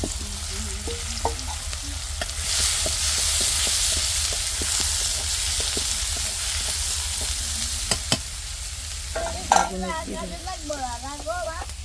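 Onion frying in hot oil in a village home kitchen, a steady loud sizzle running throughout with a few sharp clicks, and voices briefly coming in near the end.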